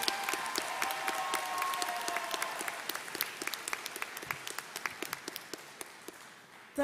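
Sustained applause from a large high school graduation crowd after a student address, steady dense clapping with some sharper individual claps standing out, gradually thinning and softening toward the end.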